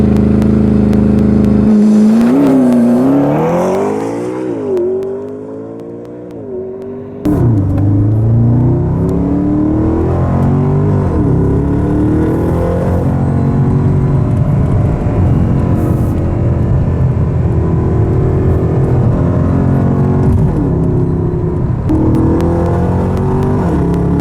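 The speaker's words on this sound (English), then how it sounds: "while we were launch controlling the Mclaren" A McLaren launched hard under launch control, its engine roaring loud and close with sharply rising pitch through the gears, briefly easing around the fifth second before surging on at full volume.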